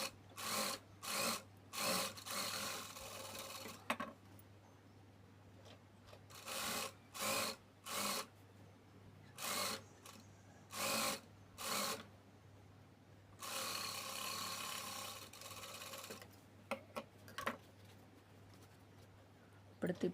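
A sewing machine stitches the lining of a child's work blouse in short, rapid, repeated bursts with one longer run, over a low steady electrical hum.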